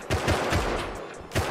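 Shotgun blasts ring out in the survival game Rust, several loud bursts landing in quick succession with a short lull before a final shot, and no talking.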